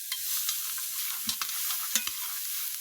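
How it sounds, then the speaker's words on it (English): Vegetables sautéing in a pot for a pot roast, a close bright sizzle with several quick stirring scrapes and taps spread through the short stretch, no voices. "we want to get those sauteed off until they're soft"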